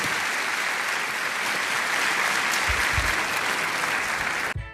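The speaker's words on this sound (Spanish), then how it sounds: "Dale un aplauso al Señor si entendió todo eso." Church congregation applauding, steady broadband clapping sustained throughout and fading abruptly at the end.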